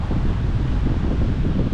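Wind gusting outdoors beside a river while fishing, a steady low roar and rumble buffeting the microphone without pause.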